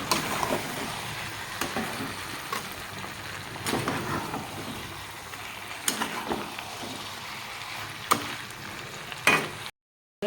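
Mixed vegetables with cashew paste and a little sugar frying in a pan, a steady low sizzle broken by repeated scraping strokes of a spoon stirring, close and moderately loud without talk.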